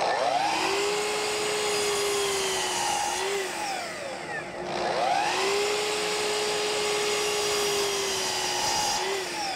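A power saw cuts wooden domino stock to length in a woodshop, a loud, close, whining buzz that holds steady with small shifts in pitch as two cuts pass through the wood.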